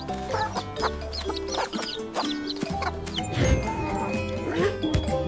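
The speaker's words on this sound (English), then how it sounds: "Chicken," Chicken clucking and quacking-like fowl calls in a busy run of bird sounds, steady and fairly close, with no talk.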